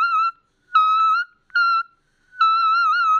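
A voice sings four high, thin whistle-register notes, short and clear with silent gaps between them, the last one held longest.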